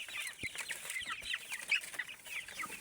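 Hubbard broiler chickens clucking and chirping together inside a small coop, a steady busy chorus of soft calls at close range with occasional light knocks.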